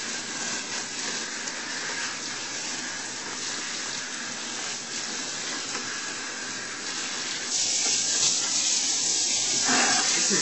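A garden hose sprays water in a steady, close hiss as it rinses sludge out of biofilter media, the rush growing louder and fuller near the end.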